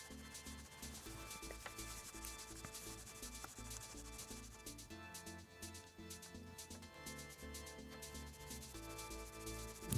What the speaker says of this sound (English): Try as I might with the block of wood and some sandpaper, it's still hard going.